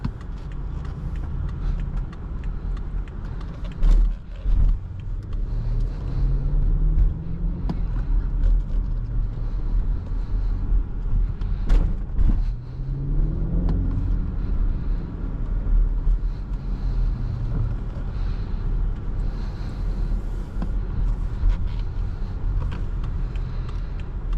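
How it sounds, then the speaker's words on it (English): A 2017 BMW X5 xDrive50i with a twin-turbo V8 drives along, its engine note rising and falling through gear changes beneath steady road and tire noise, with no talking. "that twin turbo V8 sounds really, really good"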